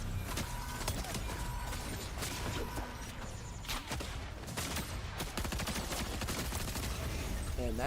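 SMG gunfire in Fortnite: repeated rapid bursts of shots crack out over game sounds, loud and close, with a voice talking at times between the bursts.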